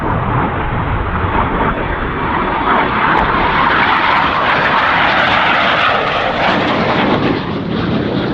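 RAF Red Arrows jets roar overhead during a Carousel display manoeuvre at the Royal International Air Tattoo, a loud sustained engine rush that swells and shifts in pitch as the aircraft sweep past.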